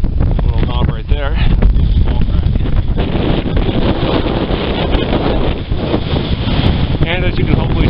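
Strong gusting wind buffets the microphone on the summit of Mount Jefferson, a loud rushing roar that persists throughout while someone talks over it.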